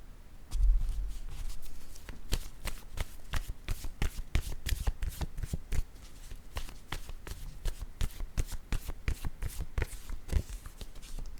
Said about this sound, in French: Je vais déposer la carte mot maintenant.